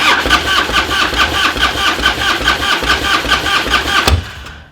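A rebuilt Harley-Davidson engine cranks and catches in a steady, rapid chugging rhythm, loud and close, for about four seconds before cutting off abruptly and fading away.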